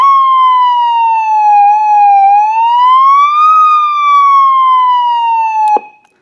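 Loud, close electronic siren from a Feniex Typhoon siren controller in manual mode, a single wailing tone sliding slowly down, up and down again before cutting off abruptly with a click.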